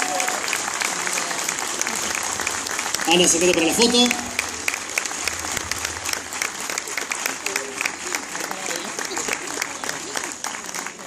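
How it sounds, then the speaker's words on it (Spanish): Strong applause for a Princess Leia costume entrant at a Star Wars fan convention in Argentina, continuous crowd clapping throughout with a brief spoken call to someone partway through. "Un fuerte aplauso entonces para la princesa Leia"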